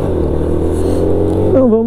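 A motorcycle engine drones steadily while riding, with a constant low hum and a rising pitch shift near the end, loud and close.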